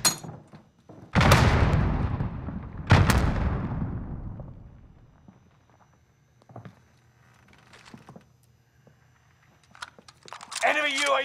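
Two frag grenades explode in Call of Duty: Modern Warfare, heavy booming blasts about two seconds apart with long rumbling tails, followed by quieter footsteps and gear sounds; voices call out near the end.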